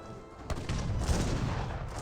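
Heavy cannon and gunfire in an Age of Empires 3 battle between French and Spanish armies: a sharp boom followed by dense, continuous rumbling volleys at moderate level.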